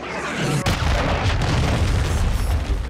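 A loud cruise missile explosion in Call of Duty, a sharp blast followed by a deep, rolling boom that sustains for a couple of seconds, close and forceful.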